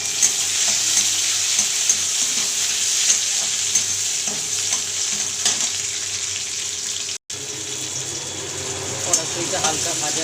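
Shelled green peas fry with onions in a wok for an egg curry, giving a steady, close sizzle and crackle with occasional stirring scrapes and a momentary break partway through.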